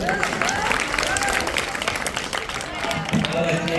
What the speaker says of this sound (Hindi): बच्चों के नाम से जोरदार ताली।